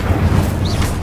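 A burst from the Incendio fire spell in the Hogwarts Legacy game: a short, loud, roaring whoosh of flame with a deep rumbling body, heard alone.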